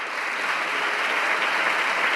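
Steady, moderately loud applause from a party's benches in the Spanish parliament fills the moment, dense clapping sustained without a break until it stops abruptly.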